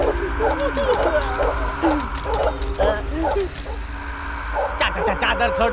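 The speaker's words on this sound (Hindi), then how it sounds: "कुत्ता भौंक रहा है किधर से?" At night a dog barks repeatedly at some distance, in short separate yaps, with people talking over it and a low steady hum underneath.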